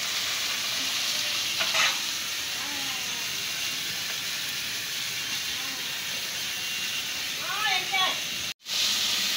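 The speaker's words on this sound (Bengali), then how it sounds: "তো মাছ আমি এই অল্প ই করে ভেজে নিব, কারণ হলো ঘন্ট করবো তো তার জন্য।" Local shrimp full of roe sizzle and hiss in hot oil, a steady frying bed with faint stirring scrapes and brief voices in the background, cut by a short dropout near the end.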